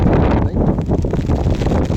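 Strong wind roars steadily and loudly across a flooded wetland where rainwater has swamped mung bean crops, buffeting the microphone with a continuous rumble and no voices.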